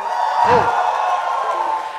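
Crowd cheering at an inspirational speaking event as the next speaker comes up: a loud, sustained roar of cheers with a whoop rising out of it, heard alone.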